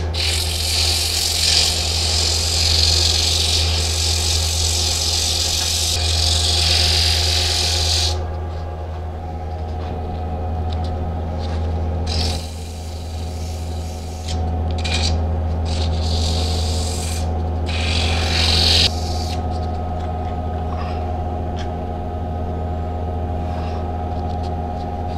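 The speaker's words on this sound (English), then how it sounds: "So I'll sand that a little bit" Sandpaper rasps against a polymer clay top spinning on a lathe, a steady motor hum under hissing bursts of sanding that stop and start several times.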